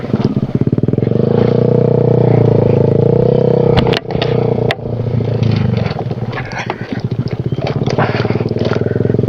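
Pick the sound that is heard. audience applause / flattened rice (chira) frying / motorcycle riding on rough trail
motorcycle riding on rough trail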